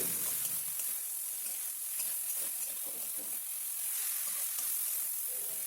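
Bean curry seasoned with salt and chili powder being stirred in a pan as it cooks on low flame, giving a steady close sizzle and hiss with soft, irregular stirring scrapes underneath, and no voices.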